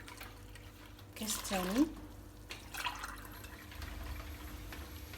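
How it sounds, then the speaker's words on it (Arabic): Warm water poured from a glass into a batter mixture for baghrir, a brief close splashing pour with rising pitch as the glass empties, followed by a second fainter pour, while someone speaks briefly. "هنا عندي الماء دافي اللي غادي نحتاج باش غادي نخلط في الخليط ديالي"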